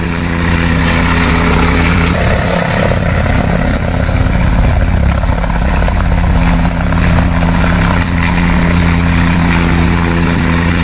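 A helicopter's steady rotor and engine drone fills the air, loud and continuous throughout, with no voices.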